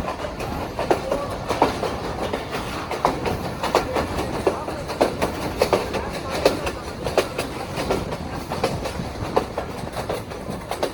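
A Pakistan Railway train travelling from Wazirabad toward Malikwal near Dinga rattles along with a steady rhythmic clickety-clack of wheels on rail joints, heard from inside the carriage over a continuous rumbling background.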